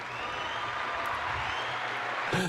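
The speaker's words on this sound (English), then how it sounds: "Hand clap." A group claps together in a steady, fairly soft wash of applause that continues briefly.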